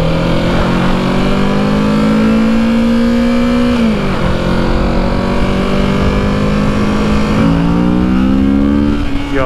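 A Kawasaki motorcycle on a demo ride in Orlando, Florida: a loud, close, continuous engine drone whose pitch climbs steadily, dips briefly and climbs again as the rider shifts through the gears.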